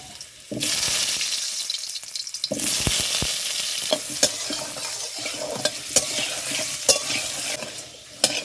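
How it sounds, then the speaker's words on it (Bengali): Potatoes fry in a pan with a strong steady sizzle starting after a brief quiet moment, punctuated by sharp intermittent scrapes and knocks of a spatula stirring, with no one talking. "আলুগুলো ভেজে নেব।"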